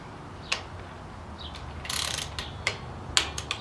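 Torque wrench ratcheting on the air filter bolt of a 2016 Harley-Davidson Road Glide Ultra during a Fuel Moto Stage 1 filter install, heard as a few quiet, close clicks and a brief ratcheting burst.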